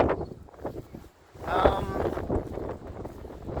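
Gusty wind buffets the microphone in low rumbling bursts while a person talks nearby.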